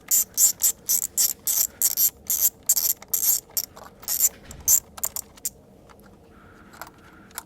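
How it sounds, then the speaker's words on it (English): A ratchet with a 10mm socket loosens a retaining bolt on a Hyundai Tucson 2.0 GDI, giving a rapid run of close, loud metallic clicking bursts for about five seconds before trailing off into quiet handling noise. "we're going to need a 10mm socket to loosen up the retaining bolt"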